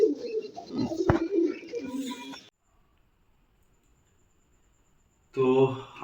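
Racing pigeons coo at close range in a steady, throaty murmur for a couple of seconds. A near-silent gap follows, then a short burst of voice-like sound at the end.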